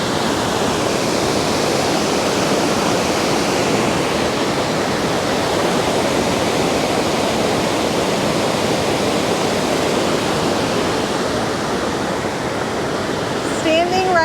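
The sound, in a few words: rushing water at Mammoth Spring dam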